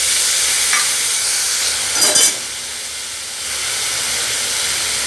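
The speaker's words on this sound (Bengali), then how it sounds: "এবার আমি মশলাটাকে ভালো করে কষিয়ে নেব" Ginger and cumin paste with slit green chillies frying in a pan, a loud steady hiss of sizzling oil with a brief burst of stirring in the middle.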